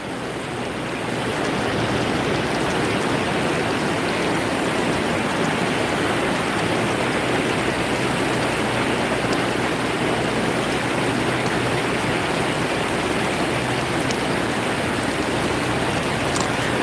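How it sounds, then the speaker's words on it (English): Running water from a shallow trout stream, about two feet deep, rushes in a loud, steady, unbroken wash from start to finish with no talking. "Well, the water's running real good on the right side over here."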